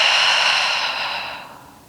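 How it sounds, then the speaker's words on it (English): Breath exhaled through parted lips during a guided yoga flow, a single long, airy whoosh, close and fairly loud, slowly fading away over about two seconds with no talking. "Part your lips and take an exhale breath."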